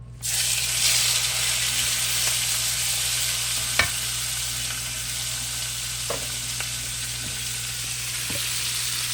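Shrimp frying in very hot olive oil and butter in a pan, a steady loud sizzle throughout with a few sharp pops and clinks of a utensil, no talking.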